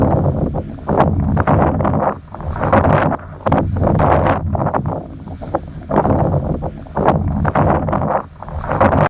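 Strong gusty wind over open farm fields in a South Indian village buffets close against the microphone, rising and falling in rough waves with no other sounds.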